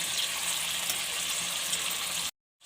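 Steady, dense sizzling of meat frying in a pot with a spoonful of garlic added for namkeen gosht, loud and close for about two seconds, then cutting off abruptly.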